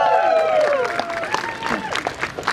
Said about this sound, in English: Big round of applause for Victor.